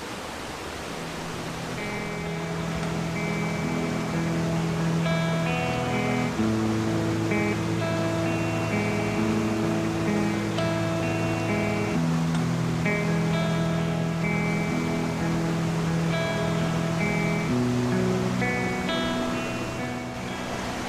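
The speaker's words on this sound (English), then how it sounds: "So there's a lovely waterfall there behind us." Golitha Falls in St Cleer, Cornwall roars as a constant broadband rush of falling water, loud and unbroken for the full stretch, with soft melodic music layered over it.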